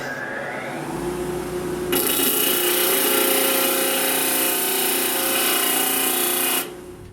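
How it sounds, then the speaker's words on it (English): A disc sander trues the faces of welded motorcycle intake manifold plates: the motor winds up, then steady abrasive grinding runs for several seconds before stopping abruptly, close and loud. "we're going to actually true up both surface on the disc sander so they seal nicely for the intake"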